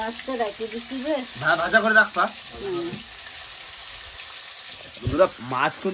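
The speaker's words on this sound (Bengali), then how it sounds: "এদিকে মাছ ভাজা হয়ে গেছে" Fish fries in hot oil with a soft sizzle under stretches of voices talking, with occasional stirring clatter.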